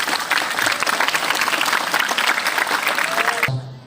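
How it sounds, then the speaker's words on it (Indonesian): Enthusiastic applause for a madrasah flag-raising (Paskibra) team honored for reaching national level: dense, steady clapping from a large audience for about three and a half seconds, then stopping abruptly. "Kasih apresiasi dulu, tepuk tangan."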